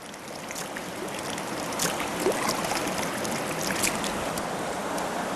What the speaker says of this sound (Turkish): böyle bir derenin kenarında şu sesi duyun